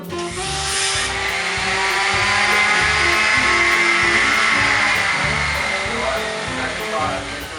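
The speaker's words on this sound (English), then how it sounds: "I then proceeded to scare myself with the power sander" A power sander works a wooden board during a DIY recording studio build, giving a loud, steady broadband whir with grinding texture that holds for several seconds, slightly rising and easing as pressure changes.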